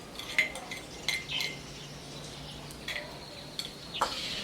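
A spoon clinks against a bowl while mixing a turmeric paste, giving a few light scattered taps and scrapes over a quiet background.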